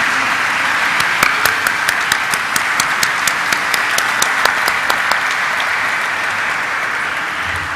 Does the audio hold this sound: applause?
yes